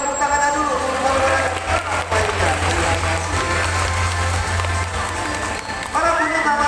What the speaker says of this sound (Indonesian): boleh minta tepuk tangannya dulu untuk lumba-lumba